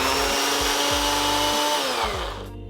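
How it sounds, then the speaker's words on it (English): A blender motor runs steadily as it grinds oats into a fine flour, a loud continuous whir with rhythmic low thumps, its pitch sagging slightly near the end before cutting off. "And now we will blend. Any blender will do"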